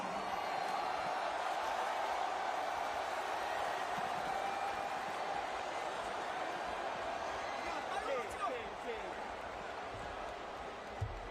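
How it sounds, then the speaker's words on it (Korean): An audience at a ceremony where Son Heung-min receives a sports medal gives sustained applause as a guest is welcomed, a dense, even wash of clapping lasting throughout with a voice heard over it. "관객 여러분 큰 박수로 맞이해 주시기 바랍니다."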